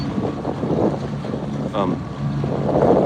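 A sailboat glides across San Francisco Bay with steady wind buffeting the microphone and water rushing along the hull, a continuous close, moderately loud wash with no talking.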